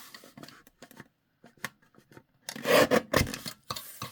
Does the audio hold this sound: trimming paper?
yes